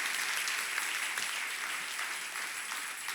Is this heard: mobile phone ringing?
no